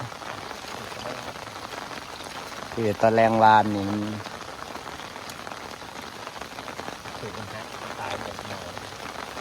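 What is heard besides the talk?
rain falling on a surface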